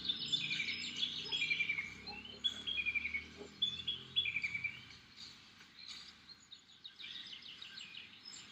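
Many birds sing and chirp in a jungle at daybreak, bright twittering phrases and trills layered at a moderate distance over a faint rustling, chattering background, with no voices.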